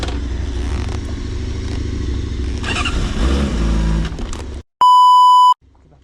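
A 2024 Honda CBR600RR sport bike launches hard from a start, its engine roaring close and loud with rising revs, then cut off by a sharp electronic beep and near silence.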